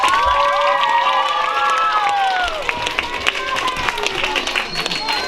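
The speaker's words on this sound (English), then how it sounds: "So one more round of applause," Applause and cheering from a school spelling bee crowd, with clapping, children's voices and shouts blending into a dense, steady roar of noise that holds throughout at a fairly loud level.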